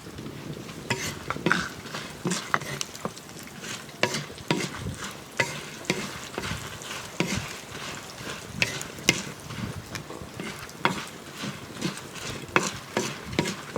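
Garlic cloves and dried red chilies frying in oil in a pan for a stuffed okra fry, a continuous sizzle broken by frequent stirring scrapes and light clinks of a utensil against the pan.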